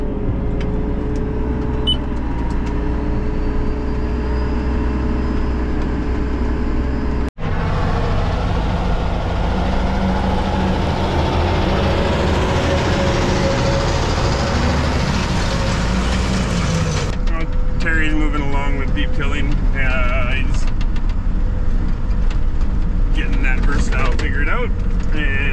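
A Case tractor engine drones steadily while it is driven during canola harvest, a loud continuous low rumble with a brief cut and shifting mechanical noise later.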